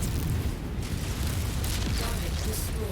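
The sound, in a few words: SRM missile explosions in the video game Mechwarrior 5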